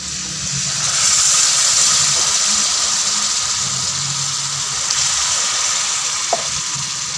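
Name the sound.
water being added to rajma in a pot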